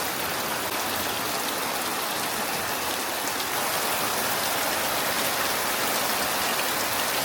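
Steady rain pours down without pause, a dense, even hiss of drops striking surfaces close around, with no voices.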